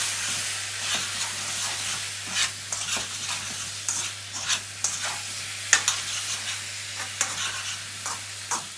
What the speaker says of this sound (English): Finally, just stir that through.